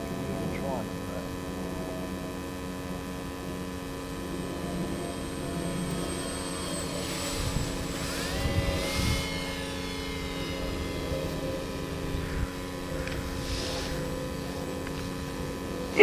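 RC Boeing 727 model jet with its throttle pulled back: a steady, whining turbine hum with tonal drones that swells briefly then eases, heard from fairly close at moderate loudness.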